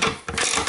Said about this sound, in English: on the lock nut, use your ratchet.